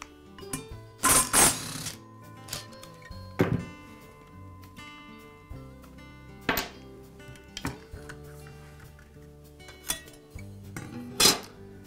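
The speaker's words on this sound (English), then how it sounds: "I'll begin by removing the blade from the saw." Metallic clanks, clinks and thunks come from taking the blade off a Makita circular saw, scattered sharp hits with ringing tails and quieter fiddling between them, and no one talking.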